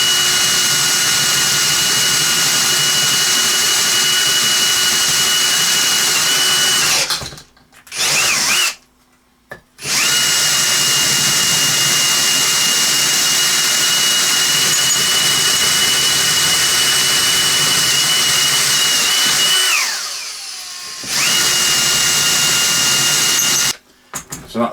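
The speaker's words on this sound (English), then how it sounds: "Then we'll go through with 10mm, which is the biggest drill we've got in this set." Power drill boring holes with a 10mm bit, a loud steady whine running in long bursts with brief stops between holes and a slowing spin-down near the end.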